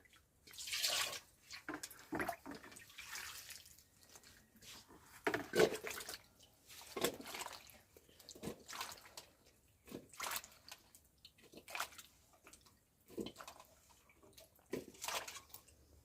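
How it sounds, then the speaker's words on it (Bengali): Vegetables being washed by hand in water in a village kitchen, with sporadic splashes, drips and squishing sloshes coming in uneven bursts, fairly close and quiet, no talking. "এখন তরকারি ধোয়া হবে"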